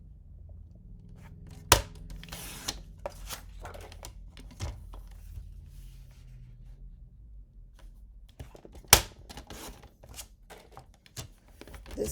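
Paper for a handmade card is cut by hand, heard as quiet, close snips and rustles scattered across a calm room, with two sharper clicks standing out and no talking.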